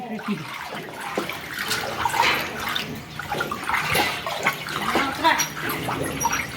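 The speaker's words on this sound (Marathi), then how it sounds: "आता एखाद्या काडीने त्याला मिक्स करून घ्यायचं थोडं एक अशा पद्धतीने ढवळून घ्यायचं आहे" Water sloshes and splashes while a goat dipping solution is stirred with a stick, giving continuous close swirling sounds over about six seconds. Someone talks over the stirring.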